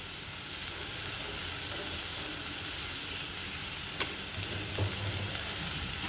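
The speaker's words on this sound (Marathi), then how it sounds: "आता ह्या मसाल्यामध्ये आपल्याला शेंगा परतून घ्यायच्या" Drumstick pods sauté in a ground village-style masala, giving a steady, even hiss of frying throughout with a couple of faint stirring knocks, close up and with no voices.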